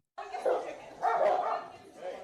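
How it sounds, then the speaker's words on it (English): Two dogs fighting, a short burst of sharp barks and yips that comes in two loud surges, close by, with voices mixed in. "Oh, two dogs fighting."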